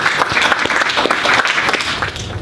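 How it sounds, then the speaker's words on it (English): A group of students claps for a classmate during a middle school math class, loud uneven hand clapping close by, with individual claps standing out throughout. "Let's give her a hand clap."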